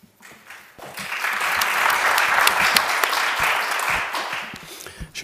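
An audience at an evening lecture bursts into applause, many hands clapping in a full, even roar that swells quickly, holds for several seconds, then tapers off near the end.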